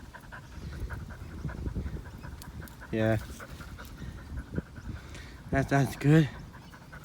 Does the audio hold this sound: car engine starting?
no